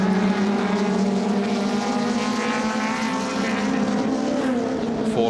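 Touring cars at Wanneroo in 1988 roar past in a dense pack, engines blaring steadily and loudly with layered droning tones throughout, no voices.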